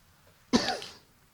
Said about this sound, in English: I've been coughing all day and I have no clue why